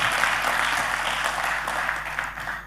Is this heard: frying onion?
no